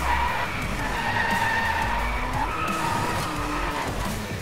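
Sustained loud tire squeal from a car drifting in the DRIVECLUB racing game, a continuous screeching whine over engine roar that wavers in pitch for the whole stretch.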